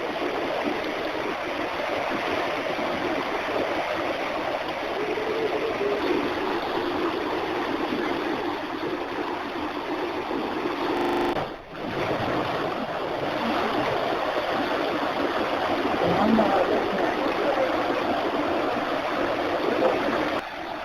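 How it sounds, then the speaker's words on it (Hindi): A swollen Yamuna river in flood rushes fast, a continuous broadband roar of churning water that holds steady from start to finish, with one brief dip partway through. "यमुना के तीव्र बहाव को देखते हुए डैम में पानी नहीं रोका जा रहा है"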